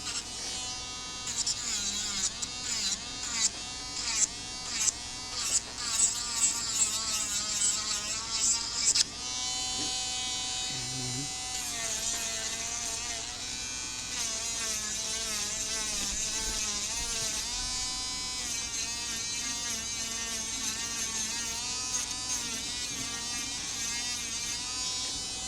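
An electric nail tool shaving down artificial nails: a high, whirring buzz that comes in short on-off bursts at first, then runs continuously, close and fairly quiet.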